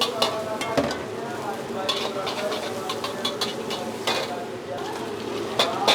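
Seafood fried rice being stir-fried in a pan in a busy restaurant kitchen, with a continuous sizzle broken by sharp scraping and clanking strokes of the spatula against the metal.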